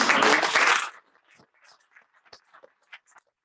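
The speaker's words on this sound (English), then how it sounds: "I probably think you deserve another round of applause" A short burst of applause from a crowd fades out after about a second, followed by scattered faint murmurs and small noises.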